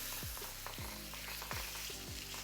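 Salmon fillets fry in a non-stick pan for a sweet chili lime dish. A steady, close sizzle runs throughout with a few soft low knocks from the pan, and no voices.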